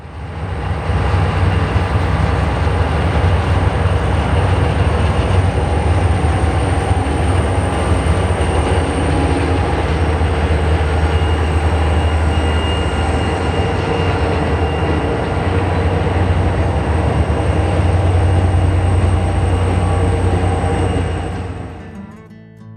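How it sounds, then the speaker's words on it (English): A Portland & Western train led by locomotive 2307 rumbles over a bridge at close range, a loud continuous roar of wheels and engine with a steady drone that fades at the end. "Portland Western's number 2307 that leads the train over the bridge"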